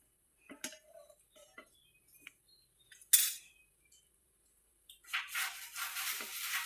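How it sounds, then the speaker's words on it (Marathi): A metal spatula scrapes and taps against a pan while a rice dosa is loosened and flipped, giving a series of light clinks and ticks, then a sharp scrape followed by sizzling. "हे पहा, आता पलटून टाकायचं आहे आपल्या डोशाला."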